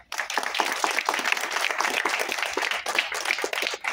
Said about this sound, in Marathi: तर अशा या माऊलीसाठी आपण एकदा टाळ्या वाजवूया.